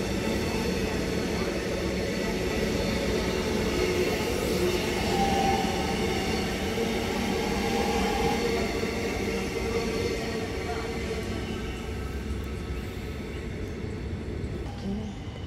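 A train bound for Flinders Street rumbles loudly and continuously past a platform, with steady wheel and carriage noise that eases slightly toward the end.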